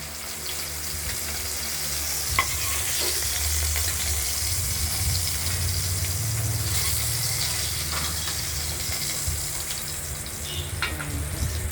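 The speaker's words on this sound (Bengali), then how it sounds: "মাছগুলো আপাতত ভাজা হচ্ছে" Pieces of rohu fish sizzle in a pan of hot oil, a dense and continuous crackling hiss heard up close throughout, with occasional small pops and scrapes.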